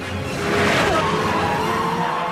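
A Lamborghini Murcielago LP640 drives by loudly, its engine a broad, roaring rush that swells after the first half-second and holds steady, with a faint squeal of tyres mixed in.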